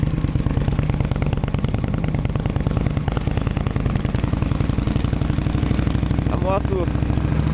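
An Indian Scout motorcycle engine runs loud and steady at low rpm with a fast, even thumping pulse, with a slight hesitation mentioned at low revs and a brief voice-like chirp near the end.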